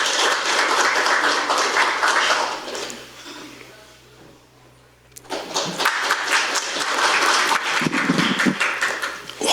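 Dense applause fills a public hearing hall to welcome a lawmaker stepping up to speak. It fades to near quiet midway, then bursts back loud and sustained as many hands clap together.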